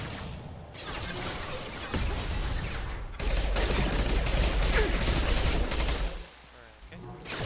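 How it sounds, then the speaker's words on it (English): Dense bursts of gunfire in Mass Effect 2 combat, including heavy high-impact shots, loud and sustained with brief lulls, mixed with voices talking over the fighting. "Firing a high impact shot."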